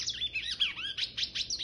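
A rusty-collared seedeater (coleiro do brejo) calls close by with a quick run of bright, sweeping chirps and trills that rise and fall in pitch, with brief pauses between phrases.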